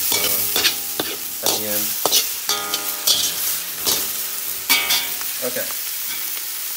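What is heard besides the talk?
rice being stir-fried in a pan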